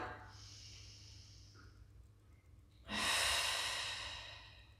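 A deep, audible breath during a Pilates tower class stretch reaching into the right ribs, hip and QL. Soft, steady airflow swells into a long, louder exhale that gradually fades, close and alone with no talking.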